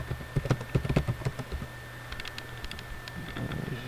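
A computer keyboard is typed on up close, with a quick burst of clicking keystrokes followed by a few lighter taps over a steady electronic hum while a command is entered.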